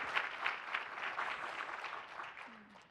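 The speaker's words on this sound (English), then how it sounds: "Just a round of applause, please." Audience applause at a talk on data for social and environmental impact: a brief, fairly faint patter of clapping from a modest crowd, fading out over a few seconds with no speech.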